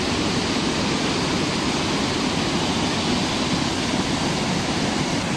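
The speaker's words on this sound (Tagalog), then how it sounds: "Ito na yung pangatlong baitang ng falls dito sa Lactas Falls." Laktas Falls in Dingalan, Aurora, its third tier roaring in a dense, unbroken wash of falling water, loud and close, with no voices over it.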